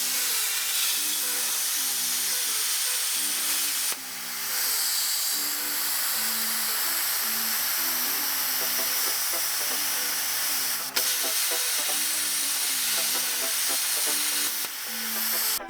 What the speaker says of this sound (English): We'll plasma cut those